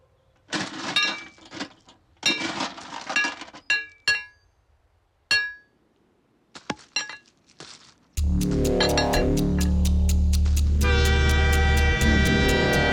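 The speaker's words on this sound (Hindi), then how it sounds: "ट्रेन आ रही है" Train approaching on the tracks: after several seconds of scattered clinks and bursts of sound, a loud, sustained tonal roar and rumble swells and keeps going to the end.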